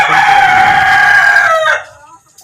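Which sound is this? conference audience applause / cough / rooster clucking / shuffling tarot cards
rooster clucking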